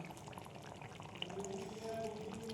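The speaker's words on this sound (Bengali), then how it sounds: "আমি এবার এর মধ্যে একটু কাঁচা সর্ষের তেল দিয়ে দেবো।" Raw mustard oil is poured over steamed rohu fish in mustard-poppy seed sauce, giving a faint, soft continuous trickle with light bubbling in a quiet kitchen.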